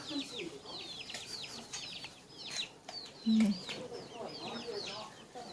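Chickens cluck and chatter in a busy flock, with repeated short calls overlapping, and a person's voice occasionally mixed in nearby.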